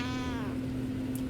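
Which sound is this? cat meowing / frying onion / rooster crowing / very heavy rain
cat meowing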